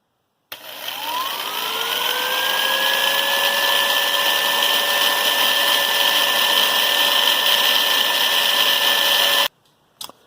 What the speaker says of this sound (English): drill halfway through, give or take